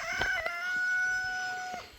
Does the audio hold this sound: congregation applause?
no